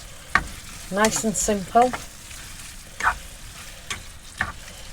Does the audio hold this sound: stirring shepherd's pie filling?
yes